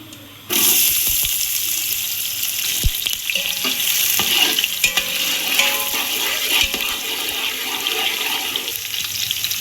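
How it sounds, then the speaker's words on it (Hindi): Onions sizzle loudly in hot oil for chicken biryani, a bright steady hiss that starts abruptly and holds throughout, with occasional clinks and stirring knocks close by. "ऑयल हमने डाल लिया और सबसे पहले प्याज ऐड करेंगे।"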